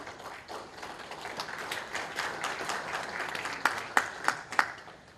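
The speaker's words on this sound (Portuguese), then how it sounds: "Palmas para o irmão José Renato" Audience applause at an afternoon session of a Masonic gathering, a steady mid-sized round of clapping that swells slightly, with a few sharper claps standing out toward the end.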